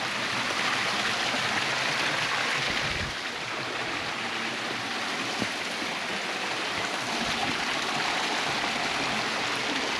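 Waterfall and creek at Cascade Falls near Old Mill Park in Mill Valley, California, in winter, rushing in a steady, full wash of water that stays constant throughout with no voices.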